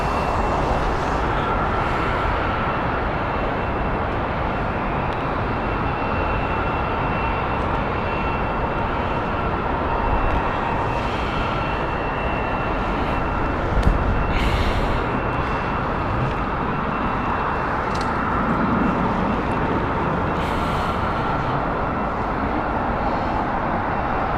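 A departing airliner at Heathrow Airport roars as a steady, loud broadband rumble that holds for the whole stretch with only small swells, and no voices come through.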